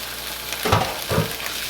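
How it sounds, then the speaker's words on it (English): Sausages fry in a lightly oiled non-stick skillet, producing a continuous loud sizzle with two brief swells of spattering hiss as the links hit the pan, and no voices. "So I'm going to go ahead and add in all of my sausage."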